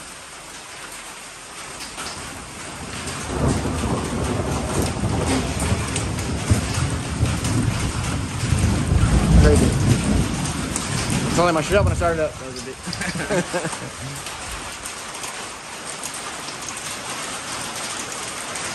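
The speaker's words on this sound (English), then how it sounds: "here I feel like it sounds like hail. It is hail." Hail and heavy rain pour down in a thunderstorm, a dense, steady roar that swells in the middle with a low rumble, while people talk over it.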